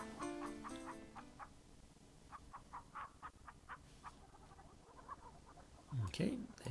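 Synthesized chicken clucks from the old adventure game King's Quest III come in a string of short, evenly spaced electronic chirps, with louder game sounds at the start and a burst of noise near the end.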